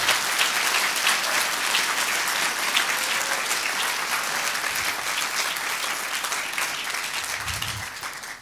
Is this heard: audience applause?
yes